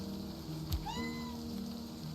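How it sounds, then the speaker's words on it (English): A cat gives a single short rising meow close by over a quiet hum with faint rain-like hiss in the background, and nobody speaks. "That's a kitty cat."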